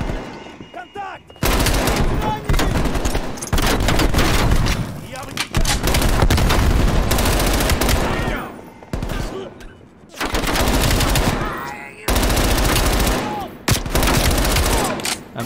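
Sustained machine gun bursts in Call of Duty: Black Ops Cold War, loud and close, firing in long sprays of several seconds broken by brief gaps, with speech mixed under the gunfire.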